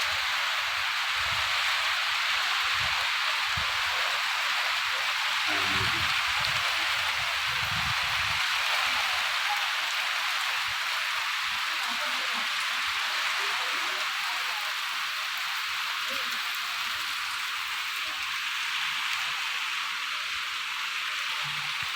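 Dense, steady rain hiss, continuous and fairly loud throughout, with a faint low murmur briefly underneath.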